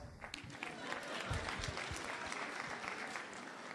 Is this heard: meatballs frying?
no